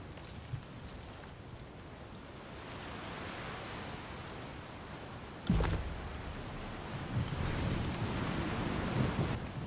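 Rust storm in the video game Tyranny: a continuous rushing, wind-like roar, broken midway by a sharp thunder-like crack, then a heavier surge of gusting noise. No one speaks.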